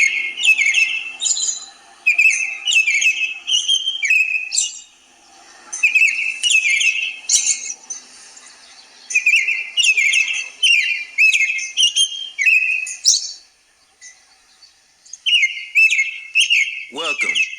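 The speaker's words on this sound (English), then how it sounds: "Let's listen to the birds chirp." Birds chirp and whistle outdoors in the morning, bright repeated trills and tweets in bursts with brief pauses, clear and fairly close.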